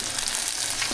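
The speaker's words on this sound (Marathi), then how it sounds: "कांद्याबरोबर आहे ना कढीपत्ता टाकते" Onion and curry leaves sizzle loudly in hot oil for a tempering, a steady dense frying hiss with no voices over it.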